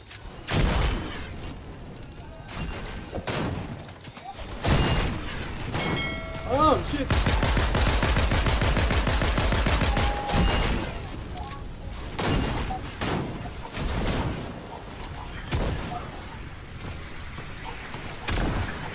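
Rapid bursts of gunfire in a pistol-only mobile shooter match, sharp shots, a dense volley and mechanical clicks, with occasional game voices between the volleys.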